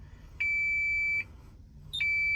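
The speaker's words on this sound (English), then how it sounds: "So let's get rid of that beeping" Two long, shrill electronic beeps from a mining haul truck sound with a short gap between them, a loud steady warning tone over a low mechanical hum.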